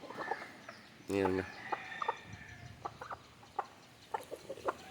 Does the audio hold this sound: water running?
no